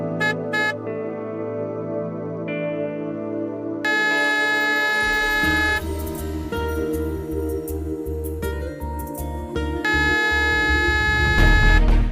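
A car horn honks repeatedly in short bursts over steady music, loud and close, with a longer blast near the end.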